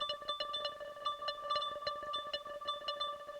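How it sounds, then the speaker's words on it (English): FM synthesizer voice on a modular synth rings out in short, randomly timed plucked tones with bright metallic overtones, a steady sustained pitch running underneath, moderately loud with no talking. "we got an FM synthesizer that sounds like this"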